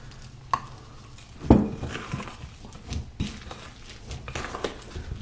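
Oats being stirred by hand into a thick vanilla protein bar batter, a close, uneven scraping and churning that runs steadily with a heavier knock partway through.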